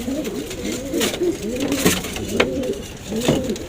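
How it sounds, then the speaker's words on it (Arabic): Young pigeon squabs coo in low, repeated throaty bursts while being fed, close and continuous over a steady background hiss. "نشوف الزغلول بياكل كلفه قد ايه"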